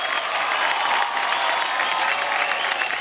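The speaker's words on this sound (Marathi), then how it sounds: "जोरदार टाळ्या होऊनच जाऊ द्या" Audience applause after a dance performance, a dense steady roar of clapping from a crowd, loud and sustained throughout with no break.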